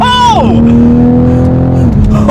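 New Toyota Supra engine revving hard under acceleration in first gear: a rising whine that drops into a loud, sustained, steady roar and then tails off, close and dominant.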